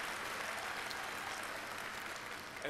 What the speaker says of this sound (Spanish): Y la gente aplaude.